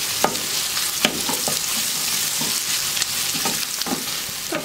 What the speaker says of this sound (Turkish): Birazcık da salçayla hafif kavuracağım.